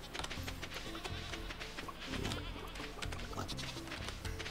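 Goats bleat in the farming video game Stardew Valley, a couple of short nasal bleats over soft, steady game music with no talk.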